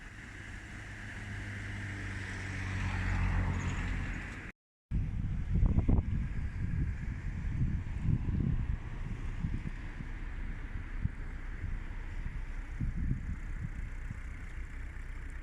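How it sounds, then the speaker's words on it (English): Steady low narrowboat engine rumble on the Wey and Arun canal as the boat comes in to moor, with wind buffeting the microphone outdoors, continuing evenly after a brief cut in the sound. "just going to bring the boat down and we can moor up here for the next couple of days"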